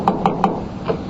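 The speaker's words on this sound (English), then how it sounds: "It was nearly 3 o'clock when I heard the door." Four sharp knocks on a wooden door, three in quick even succession and a fourth after a short pause, close and clear in a quiet room in an old radio drama.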